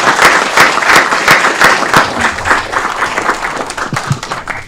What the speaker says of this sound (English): Another round of applause for all of our awardees.